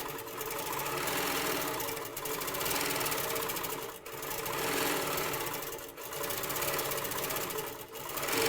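A sewing machine runs steadily during free-motion quilting, stitching forwards and back in a dense, continuous mechanical chatter that breaks off briefly about every two seconds before resuming.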